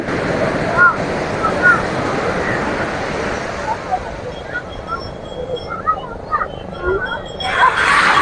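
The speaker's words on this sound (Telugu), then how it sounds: "సముద్ర కెరటాలు చూడండి ఎంత గొప్పగా వచ్చేస్తాయో" Sea waves breaking at R.K. Beach in Visakhapatnam, a continuous loud wash of surf mixed with wind buffeting the microphone, while people talk over it throughout.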